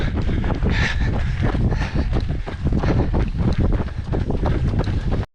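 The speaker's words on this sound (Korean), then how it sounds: "바람 좀 불고 있습니다" Wind gusts buffet the microphone steadily during a marathon run on a half-marathon course, a loud, continuous roar with rhythmic low thumps from running footsteps underneath, no talking.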